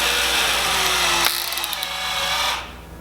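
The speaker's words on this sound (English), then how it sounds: "And then you can go ahead and drill the center hole all the way through." A power drill bores a 3/4 inch center hole through a boat deck while fitting a vented deck fill, a steady loud whine running about two and a half seconds before stopping abruptly, with faint ratcheting near the end.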